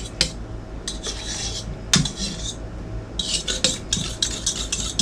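A marinated garden-fresh summer salad is tossed in a bowl with a fork, giving bursts of clinking and scraping against the dish, with short pauses between strokes, close and clear with no voices.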